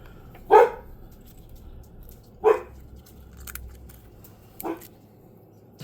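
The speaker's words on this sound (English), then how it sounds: "I don't know what she's barking at." A dog barks indoors in a home near a fireplace hearth: three separate single barks spaced about two seconds apart, moderately close, in an otherwise quiet room.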